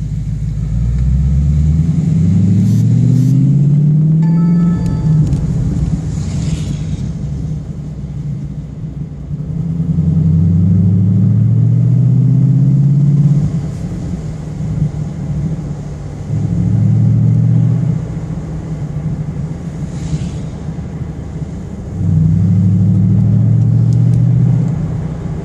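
A 2015 Mustang GT V8 fitted with a Magnaflow exhaust and FRPP X-pipe, heard while driving on a snowy road: deep engine rumble rising in several long revving pulls, then easing off, loud and close with no talking.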